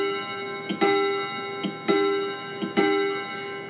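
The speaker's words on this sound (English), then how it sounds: "I'm just making the chime hammer hit the chime rod." Three evenly spaced metallic strikes of a 31-day grandfather clock's chime hammer on its chime rod, each a sharp tick followed by a sustained ringing chime tone, close and clear.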